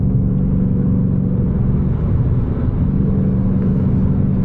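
A car drives along a road, heard from inside as a steady, loud, low rumble of engine and tyres that holds an even level the whole time, with no talking.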